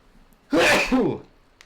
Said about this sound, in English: Oh, I feel a sneeze coming.